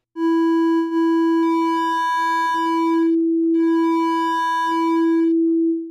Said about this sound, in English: by increasing the gain of that sine wave, I'm making it, well, it would normally clip, but instead I'm folding it over.